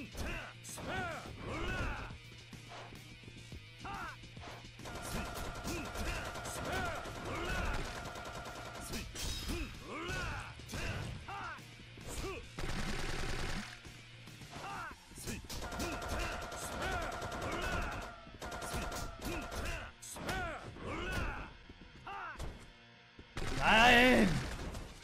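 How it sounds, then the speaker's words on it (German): An Uzi submachine gun fires in the brawler game Yakuza 3, with rapid bursts of automatic gunfire, impacts and clattering action sounds mixed with game effects, and someone talking over them. "Maschinenpistole! Uzi! Wo schießt du denn hin?"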